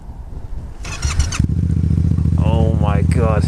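A motorcycle engine cranks and fires up, a brief starter whine giving way to a deep, loud, steady idle rumble close by, with someone speaking excitedly over the running engine.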